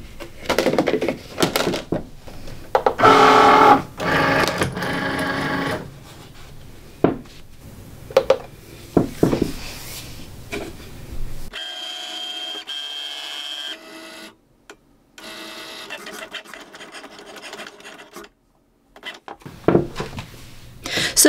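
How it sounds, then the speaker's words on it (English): A Cricut cutting machine running a double cut of a star shape in faux leather, its carriage whirring and clicking in bursts of motor noise, with a steady mechanical hum in a later stretch and brief pauses. "I'm going to do 2 cuts in a row to see if 2 cuts is enough"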